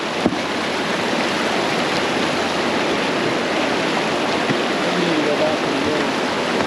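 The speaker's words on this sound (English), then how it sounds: "Oh, we got a waterfall." Whitewater of the Arkansas River rushing over rocks toward a waterfall, heard from a BRIS inflatable boat: a steady, loud, broadband roar that runs unbroken throughout.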